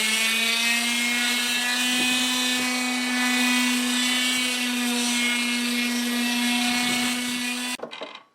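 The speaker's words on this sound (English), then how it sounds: "I'm going to go ahead and hit these with the palm sander, kind of get rid of all the burrs" A palm sander smooths burrs off freshly drilled wood pieces for a folding work table, giving a steady, loud, high motor whine that holds unbroken for nearly eight seconds, then cuts off abruptly.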